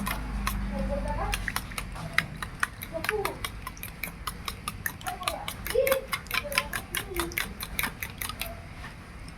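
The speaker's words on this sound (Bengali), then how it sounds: "এবার আমি ভালো করে এগুলো মিশিয়ে নেবো নিয়ে ভালো করে ফাটিয়ে নেব" Eggs beaten in a bowl with a utensil, making fast, regular clicking taps against the bowl that run throughout, with a faint voice underneath.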